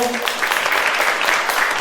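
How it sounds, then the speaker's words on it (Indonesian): A crowd gives steady, fairly loud applause at the opening ceremony of Diestetico, a clinic in Surabaya, a dense wash of clapping filling the short moment. "Boleh tepuk tangannya semuanya."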